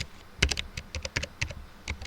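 A computer keyboard is typed on in a quick, irregular run of close, crisp key clicks over about two seconds, with no talk.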